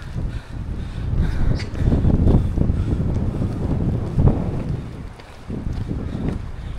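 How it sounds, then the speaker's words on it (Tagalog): Strong wind gusts buffeting the microphone on a mountain hiking trail up Bukhansan toward Baegundae Peak, producing a steady, loud, roaring rumble that swells and dips throughout with no talking. "Ngayon, lumalakas ang hangin."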